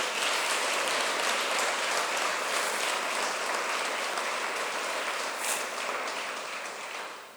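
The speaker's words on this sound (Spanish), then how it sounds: "denle un aplauso al Señor" A church congregation claps together for a long stretch, a loud, dense and continuous wall of applause that fades slightly toward the end.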